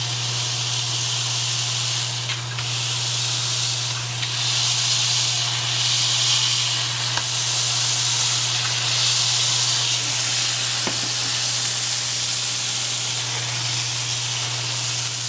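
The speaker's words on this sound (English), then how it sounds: "the idea here is to squish the ever-loving shit out of this burger" A wagyu smash burger hisses and sizzles steadily on a hot griddle as it is pressed flat, a continuous loud frying hiss with a constant low hum underneath and no talking.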